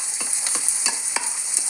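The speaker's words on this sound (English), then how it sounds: "we've got our sliced onion that we're just going to saute" Sliced onion sautéing in a non-stick pan, stirred with a wooden spoon for a chicken curry, a constant bright sizzle with soft regular scrapes of the spoon every few tenths of a second.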